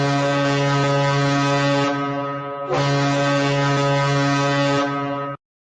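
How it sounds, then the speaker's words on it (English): A foghorn sound effect blares two long, loud, deep blasts, the first lasting about two seconds, then a brief pause, then a longer second blast that cuts off abruptly. "gets the foghorn"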